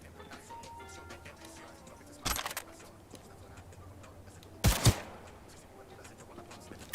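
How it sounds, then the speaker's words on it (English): Two short sharp bursts of gunfire in Cyberpunk 2077, spaced a couple of seconds apart over quiet game ambience with faint ticking. "There's a weapon right next to you, so I'm going to shoot you in the head."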